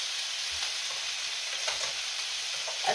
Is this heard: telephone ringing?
no